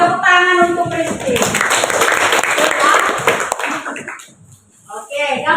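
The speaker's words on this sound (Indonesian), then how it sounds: "Tepuk tangan untuk Kristi." Classroom applause with children clapping together, a dense burst of hand claps filling most of the moment before fading, with voices talking at the start and end.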